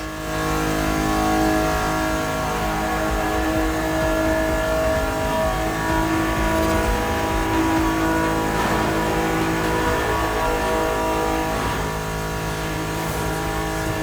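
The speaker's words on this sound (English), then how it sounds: "These souped-up speeders pack a pile of torque." Souped-up, heavily customized cars racing in The Crew Motorfest video game, loud continuous engine roar with revving and harmonic whine held throughout, no talking.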